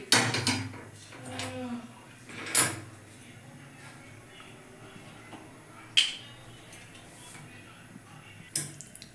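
A kadai wok set onto a kitchen stove while making soya cutlets, giving a few sharp metallic knocks and clatters spaced apart, with quiet room tone between them.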